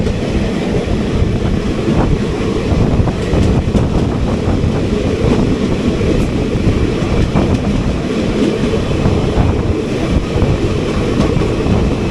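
The Kochuveli Raptisagar Express rolls past as a loud, continuous rumble of wheels and carriages on the rails, mixed with heavy wind buffeting. It stays steady for the whole stretch with no voices.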